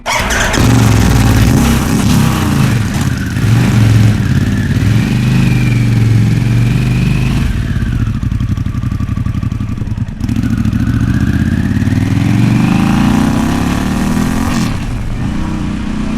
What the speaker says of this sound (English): you put this Vance & Hines exhaust on, no more sewing machine